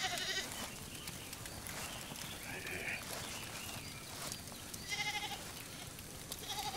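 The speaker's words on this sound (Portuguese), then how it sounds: "Você não percebeu que tinha umas cabras morando aí nesse lugar?" Goats bleat repeatedly in short, nasal calls in a video game, over a steady background, several animals calling one after another at moderate distance.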